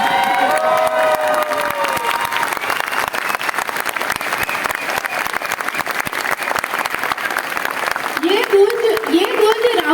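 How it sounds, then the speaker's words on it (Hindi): A large standing audience at a Modicare success-story event bursts into dense, loud, continuous applause with cheering and shouts, while voices rise over the clapping near the start and end. "खड़े होकर तालियों से बता दें।"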